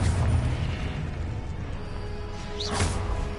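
A Confringo fire spell in Hogwarts Legacy erupts as a brief whooshing burst, with a low rumbling boom underneath and a bright swish near the end, heard alone in a game setting.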